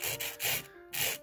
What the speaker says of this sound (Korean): 일단 양쪽 손 길이를 맞추기 위해서 저는 여기까지 갈아줄게요.